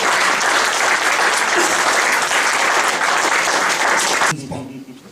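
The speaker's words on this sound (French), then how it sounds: "On va acclamer le Seigneur." A church congregation applauds and cheers in a loud, dense, steady burst that fills the room, then cuts off abruptly near the end, leaving quieter murmuring and a few voices.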